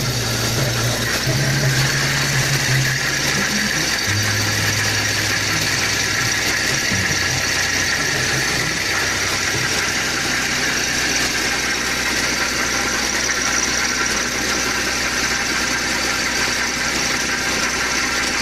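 Nissan Maxima A33 engine idling with abnormal extraneous noises, a loud steady rumble with a faint uneven knocking running underneath, recorded close up with no talking.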